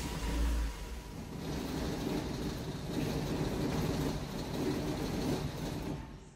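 A van with an electronic brake control module fault and no throttle position sensor signal starts and runs roughly: a low, uneven engine rumble that rises and falls for several seconds, heard from a short distance with no talk.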